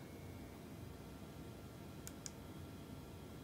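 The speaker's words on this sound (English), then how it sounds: "I'm going to click here" Two faint, quick mouse clicks in close succession over a steady background hiss at a microscope imaging workstation.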